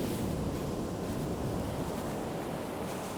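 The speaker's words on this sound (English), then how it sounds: "you join me on quite a windy evening" Strong westerly wind sweeps across Lynemouth Beach in the evening, a dense continuous roar that buffets the microphone, with surf blended into the rush and no voices.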